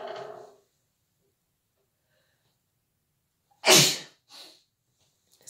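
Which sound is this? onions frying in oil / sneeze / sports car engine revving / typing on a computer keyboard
sneeze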